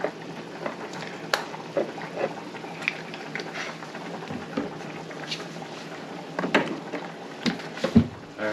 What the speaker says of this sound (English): We're going to stir in till it browns, probably about 2 minutes.